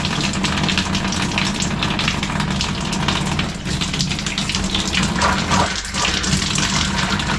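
Water gushes steadily from the shower of a Keystone Bullet 261RBS camping trailer during winterizing, a loud continuous spray with slight sputters throughout.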